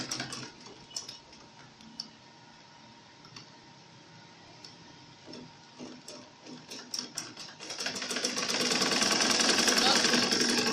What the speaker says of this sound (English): I'm going to go to my sewing machine and sew